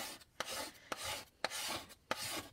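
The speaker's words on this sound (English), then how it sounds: "So I am just going to go ahead and use my paste scraper to get all of this chalk paste off." A paste scraper drags across a craft frame to strip off chalk paste, giving broadband scraping strokes with sharp clicks roughly every half second, close and moderately loud, with no talking.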